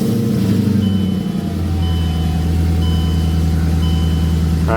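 A Mercedes CLK55 or C55 AMG engine idles after a cold start in freezing weather, running rich with a steady low rumble and rising pitch as revs settle, close and loud with no talk.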